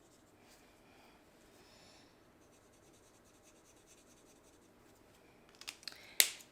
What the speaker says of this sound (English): so I'm going to cut this out for the front of our card.